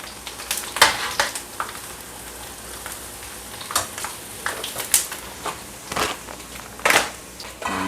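Kerupuk crackers frying in hot oil, giving a steady crackling sizzle with sharp bursts and pops as they puff, heard up close with no talking.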